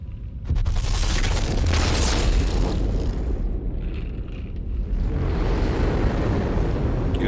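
Deep booming blasts and gunfire-like bursts from a space combat video game rumble continuously and loudly, with dense low-end explosions throughout and no pauses.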